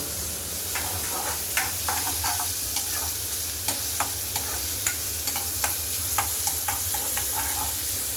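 Onion and garlic stir-frying in a pan for a Marathi bhaji, a steady close sizzle with scattered crackles and spatula scrapes throughout, no voices.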